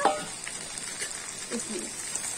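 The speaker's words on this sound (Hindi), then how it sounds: "अब इसमें हम जो नेनुआ है इसको डालेंगे, धीरे धीरे डालेंगे और फटाफट चलाएंगे" Ridge gourd pieces drop into hot oil with frying onions and are stirred fast in a pan. A soft, steady sizzle runs throughout, with faint scraping and stirring sounds near the start and middle.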